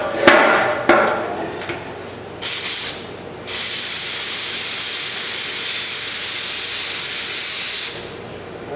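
Spray gun driven by a small 33-gallon air compressor lays a wet coat: a few sharp clicks and brief hissing bursts, then a loud, steady, close-up hiss of air and paint that runs unbroken for several seconds before cutting off.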